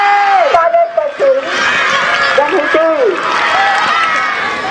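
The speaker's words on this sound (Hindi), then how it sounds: "देखिए जोरदार तालियां बजाइए।" At a school annual sports day, a large crowd claps and cheers loudly and steadily. Shouts, whoops and lively chatter rise over the dense applause for nearly five seconds.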